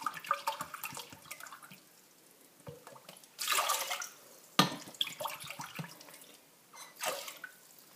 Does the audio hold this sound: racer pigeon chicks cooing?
no